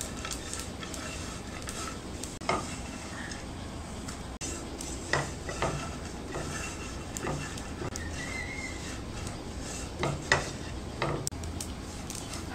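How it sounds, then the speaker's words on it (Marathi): Cashews and almonds roasting in ghee in a pan, a low steady sizzling bed with scattered stirring clinks and scrapes of a spoon, faint and continuous, no talking. "आणखीन 1 चमचाभर मी काजू आणि बदामसाठी तूप घालणार आहे आणि हे छान आपण भाजून घेऊया।"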